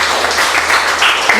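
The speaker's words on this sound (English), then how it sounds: "Clap for her." Classroom applause from a group of primary school pupils, a short burst of steady clapping at moderate volume that fills the moment without talk over it.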